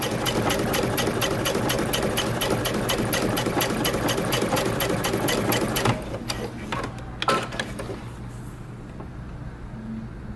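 A sewing machine runs a steady, fast rhythmic chatter while top stitching jeans fabric with a 3.5 length stitch, then stops abruptly, followed by a few handling clicks and quiet room tone.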